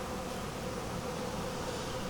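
Honey bees buzz inside a queenless, dying hive: a dense, continuous, steady drone from many insects, close and even in level throughout, with no voices.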